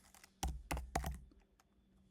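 Fingers type on a computer keyboard, a quick cluster of crisp, close key clicks followed by a few lighter taps in an otherwise quiet room.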